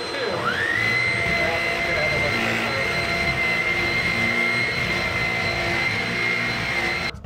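A Shark HV322 Rocket Deluxe Pro stick vacuum runs steadily close by with its brush roll spinning, a constant whine and motor roar that holds for several seconds and then cuts off at the end.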